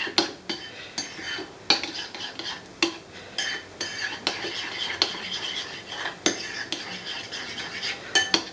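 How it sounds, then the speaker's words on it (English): Cutlery scraping and clinking against a bowl as a cayenne pepper mixture is stirred, a run of close, irregular taps and scrapes with no talking. "Stir it all together."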